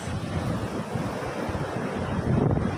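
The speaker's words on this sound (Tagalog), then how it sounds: "Malakas ng alon sa Japan ng dagat." Strong ocean surf rolls in at a beach in Kamisu, Ibaraki, Japan, a dense steady roar of crashing waves with wind buffeting the microphone throughout and no talk.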